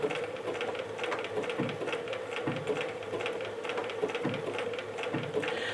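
A domestic sewing machine stitches steadily while sewing pants, a close, continuous rapid mechanical chatter with an even rhythm and no pauses.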